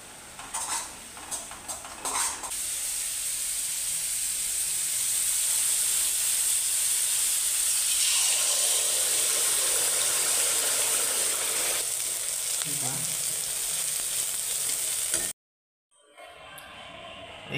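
Spice paste of ground cumin, ginger and chili is added to fried onions in a pan, producing a loud, steady steamy hiss and sizzle with some utensil clatter early on.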